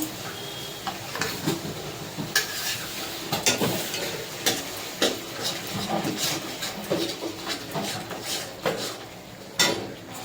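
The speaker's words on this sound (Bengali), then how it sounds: "ভালোভাবে পোস্তটাকে কষিয়ে নেব" Poppy seed paste fries in a pan for doi katla, giving a soft continuous sizzle broken by irregular scraping strokes as it is stirred, close and fairly loud.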